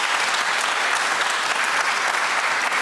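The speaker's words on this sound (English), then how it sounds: "I would say maybe half of you are applauding" Studio audience at a televised political debate programme applauding in a dense, even wash of clapping at close range, with no voices over it.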